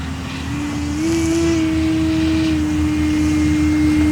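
Hangar 9 Ultra Stick 60-inch RC model airplane hovering, its electric motor giving a loud steady whine that rises slightly in pitch and then holds, continuous and alone.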